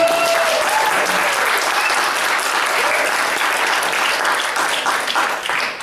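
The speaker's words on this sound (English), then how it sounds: "Can we give her a round of applause, please?" A crowd at a literary reading gives a round of applause, a thick, steady burst of clapping at close range that holds strong before easing off slightly near the end.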